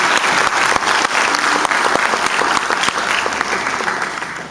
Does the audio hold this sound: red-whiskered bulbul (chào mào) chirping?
no